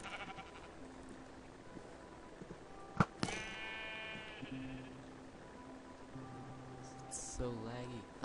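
A sheep bleats a few times over steady background music in Minecraft, with a sharp thud partway through and a short bleat near the end.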